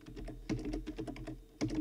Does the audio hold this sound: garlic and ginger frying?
no